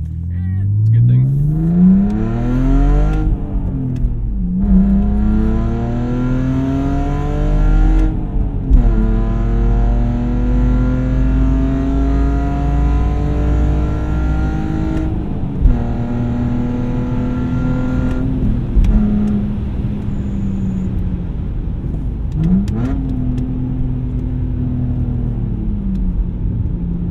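Loud exhaust of a BMW E46 330, heard from inside the car: the engine climbs repeatedly through the gears with rising revs and pauses at each shift. People talk over the loud engine.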